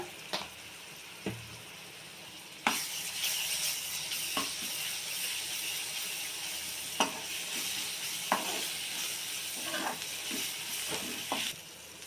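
Freshly ground ginger-garlic paste sizzles in a hot pan, a steady hiss that swells loudly around the third second, broken by sharp scraping clicks of a stirring spoon at irregular intervals.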